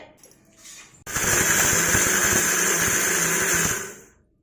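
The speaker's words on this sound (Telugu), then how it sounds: "అన్ని దీంట్లో వేసి మిక్సీ కొడుతున్నాను" A mixer grinder grinding spices and salt for amla podi whirs loudly and steadily for about three seconds after a brief quieter start, then winds down.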